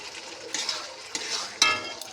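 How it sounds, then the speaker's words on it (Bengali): A spice paste of ginger, garlic, onion and tomato fries in a pan with a soft sizzle, broken by a few sharp scrapes and clinks of a spatula stirring against the metal. "আদা রসুন পেঁয়াজ টমেটো দিয়ে মশলাটা ভেজে নিচ্ছি"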